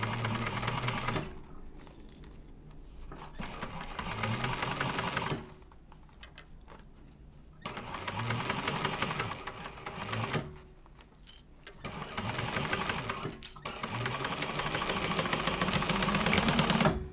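A sewing machine stitches a seam on a fabric tube with a drop-in lining, running in steady whirring bursts of a few seconds each, separated by short pauses, close and fairly loud.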